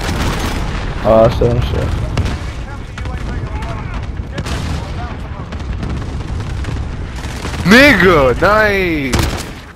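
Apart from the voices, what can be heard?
cruise missile strike explosions in video game Rust Hardpoint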